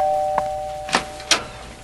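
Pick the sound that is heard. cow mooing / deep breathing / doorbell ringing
doorbell ringing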